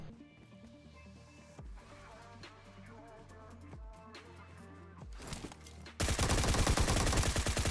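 Gunfire in the mobile battle-royale game PUBG Mobile: scattered single shots and thuds at first, then a dense, loud burst of rapid automatic fire in the final seconds.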